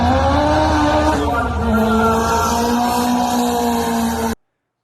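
A twin-engine Toyota Starlet launching at a drag strip, a loud sustained engine roar rising in pitch as it pulls away, close and continuous before cutting off abruptly.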